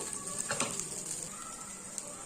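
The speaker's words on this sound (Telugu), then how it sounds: "ఇవన్నీ వేగుతున్నాయి కదా ఇప్పుడు" Sweet corn kernels fry in a pan with spices, giving a soft, steady sizzle close up, with a few light stirring scrapes and no voices.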